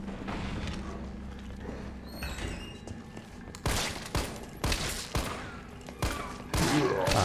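Gunfire in the video game Resident Evil 3 Remake, loud bursts of shots in rapid clusters with sharp repeated cracks, heard alone without talk.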